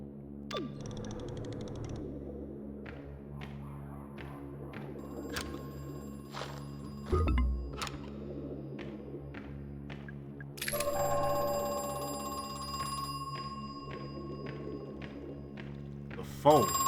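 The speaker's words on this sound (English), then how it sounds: "The phone is for me." A telephone rings in the horror video game Crow Country, repeated electronic rings over an ambient game soundtrack, with a louder burst partway through and occasional thuds.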